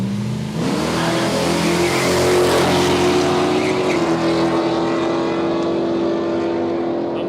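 Big block Chev drag cars, including a big white Pontiac and an HG Ute, roar at Palmyra Raceway, with a loud sustained engine note that climbs in pitch and holds steady as they race.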